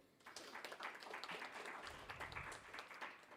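An audience at a research colloquium in a JW Marriott ballroom in New Delhi applauds a speaker, a dense, fairly faint patter of many hands clapping steadily throughout.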